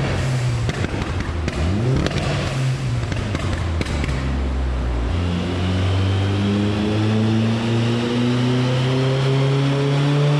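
A loud turbocharged Audi A3 engine revs up steadily, its pitch climbing continuously over several seconds after a rough, idling start.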